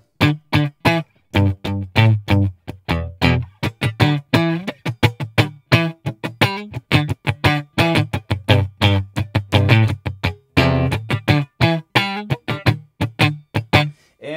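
Electric guitar played through Logic Pro's Amp Designer 'large black amp clean' preset, a steady run of picked notes and chords with a full, warm body, alone without talk.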